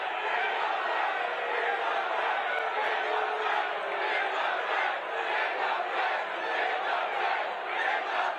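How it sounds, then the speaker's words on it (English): A large indoor crowd chants "hypocrite" at a speaker during his speech, a dense, continuous roar of many voices with a rhythmic pulsing cadence, loud and sustained. "The entire room is chanting hypocrite at him."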